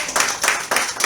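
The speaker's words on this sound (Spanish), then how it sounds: "¿Alguien le da un aplauso al Señor?" A church congregation clapping in praise of the Lord, a quick burst of applause with rhythmic claps, close and fairly loud.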